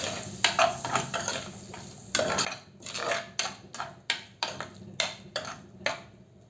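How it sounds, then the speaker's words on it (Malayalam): A utensil stirs chopped tomato into spiced lobster gravy in a pan, giving a steady rhythmic series of close metallic scrapes and clinks, about two per second, over a faint sizzle, with no talk. "ഇനി ഇതിലേക്ക് ഒരു ചെറിയ തക്കാളി അരിഞ്ഞത് കൂടി ഇട്ട് കൊടുക്കാം. എന്നിട്ട് ഇതെല്ലാം കൂടി ഒന്ന് നല്ലോണം ഒന്ന് ഇളക്കി കൊടുക്കാം."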